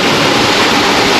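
Water sprays in a dense, loud, steady hiss from the jets of an automatic car wash, heard up close for a brief moment with no voices.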